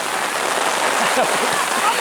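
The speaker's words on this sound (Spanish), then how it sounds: "mira la lluvia" Heavy rain pours down steadily during an amateur football match, a loud, close wash of patter that masks faint background voices.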